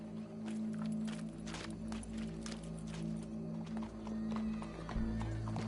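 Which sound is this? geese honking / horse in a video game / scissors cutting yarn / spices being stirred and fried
horse in a video game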